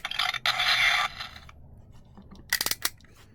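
Yo-Kai Watch Model Zero toy with its bezel turned, giving off generic electronic noises: a bright burst of scratchy tones, a quiet gap, then a quick cluster of sharp clicky chirps.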